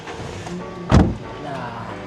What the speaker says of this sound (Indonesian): Starter dia langsung keras nyala ya, masih krenyes.